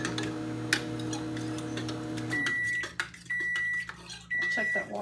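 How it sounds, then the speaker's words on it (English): A kitchen microwave oven runs with a steady electrical hum and a faint tick. The hum cuts off after about two seconds, and three repeated high beeps follow. "The microwave's noisy."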